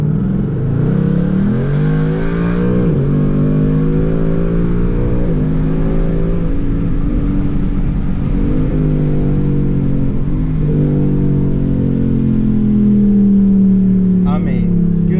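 A stock 2018 Ford Mustang GT with a 10-speed automatic accelerating hard, loud engine revs climbing repeatedly through a quick series of upshifts, steady rising roar from inside the car.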